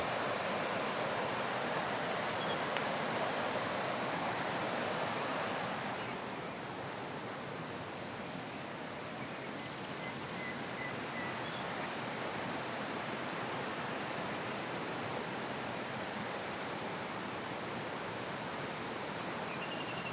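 A mountain stream near a sanatorium flows with a steady, full rushing wash of water, constant and close throughout, slightly louder in the first few seconds before settling into an even roar.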